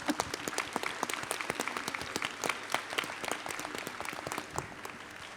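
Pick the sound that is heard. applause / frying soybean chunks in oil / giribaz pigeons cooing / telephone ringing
applause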